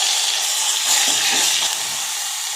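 Ginger garlic paste fries in hot oil with mustard seeds and cumin, giving a steady close sizzle with a brief stirring scrape in the middle, no voices.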